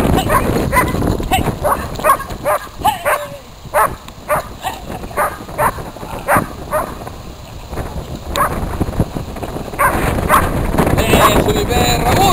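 A dog barks in repeated sharp bursts during bite work protection training, loud and close, with a handler shouting encouragement between and over the barks and wind buffeting the microphone outdoors.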